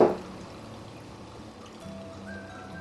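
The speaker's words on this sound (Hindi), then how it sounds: "अब ये सब चीज़ें डालने के बाद मैं इसमें 1 कप सिरका डाल दूंगी।" A cup of vinegar is poured into a jar of onion pieces, giving a short close liquid trickle and splash that starts with a soft knock and runs faintly and steadily to the end.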